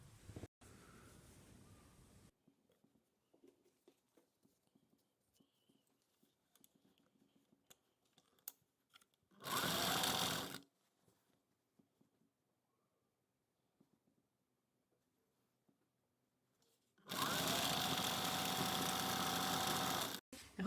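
A sewing machine stitches cigarette trousers in two short, steady runs of whirring separated by long quiet gaps, with faint handling noises in between.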